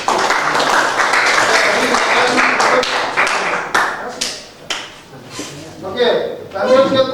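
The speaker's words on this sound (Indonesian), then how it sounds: "Boleh tepuk tangan untuk kelompok A." Students in a classroom clap for a presenting group, a burst of close clapping that thins into scattered individual claps, with voices talking over the tail end.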